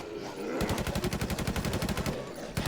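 Automatic gunfire in the online survival shooter NewZ comes as a rapid, even string of loud shots lasting about two seconds, after a brief lead-in of game background.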